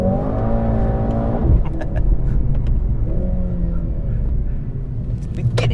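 A Mercedes-AMG C63 S hybrid super saloon pulls through a tight corner on a narrow British country road, its engine droning loudly and steadily with rising and falling revs and a deep rumble, heard from inside the car.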